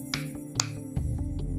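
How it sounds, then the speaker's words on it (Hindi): A narrator demonstrates finger snapping: a few crisp, close snaps spaced unevenly across a short stretch, set over a low, steady tonal background hum. "ऐसे चुटकी बजा के उठाया"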